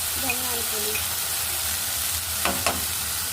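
Chili powder and coriander powder frying in a pan of jackfruit curry masala, a steady close sizzle with a few brief stirring scrapes and faint tonal traces near the start.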